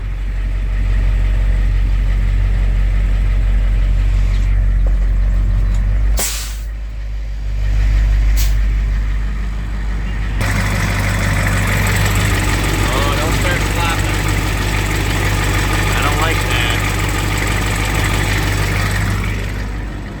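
A car engine idling steadily after a cold start, a constant low rumble throughout, with a brief dip and a couple of sharp clicks midway, then a slightly brighter, busier idle with faint mechanical chatter.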